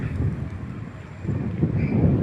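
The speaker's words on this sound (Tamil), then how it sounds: "கடல் கடலாண்ட காற்று எப்படி அடிக்குதோ அந்த மாதிரி இருக்கு" Strong gusting wind buffets the microphone outdoors in a garden after rain, a broad low roar that eases midway and then swells louder again, with no voices.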